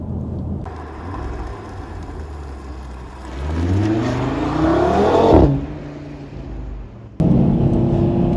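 An Audi TT RS Iconic Edition accelerates hard, its engine note climbing loudly through the revs before a sudden cut and a fresh surge, heard up close with no talk.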